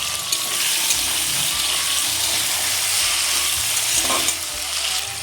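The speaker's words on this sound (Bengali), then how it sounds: "এবারে কেটে রাখা আলুগুলো এক একে দিয়ে দিচ্ছি" Sliced potatoes, dropped one by one into hot oil already tempered with cumin, sizzle and crackle steadily in a pan, with soft stirring and scraping close up and no talking.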